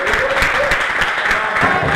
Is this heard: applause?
yes